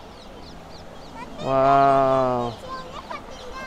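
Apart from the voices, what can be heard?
ducks on a lake in a park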